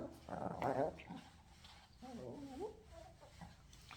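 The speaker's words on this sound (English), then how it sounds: "She's yawning, she's growling, she's lifting her lips." Shih tzu under stress during grooming gives a low, quiet growl with a brief whimpering rise early and another rumbling growl later, faint against the room's background noise.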